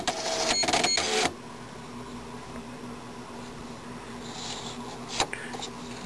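A dot matrix printer switches on with a loud burst of mechanical buzzing and clattering for about a second, then quiets to a low hum, followed by a brief sharp feed noise.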